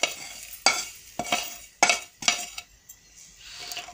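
Chicken with spices is mixed in a pan in several distinct strokes, each a sharp scrape and clatter of a spoon against metal over faint sizzling, close by with short pauses between and no talking.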